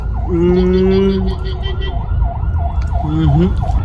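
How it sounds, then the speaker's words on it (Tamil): An ambulance siren wails through heavy traffic on Mount Road, sounding loud and close with repeated rising and falling sweeps, while steady vehicle horns blare alongside it. "ஆம்புலன்ஸ் வந்துருக்கு."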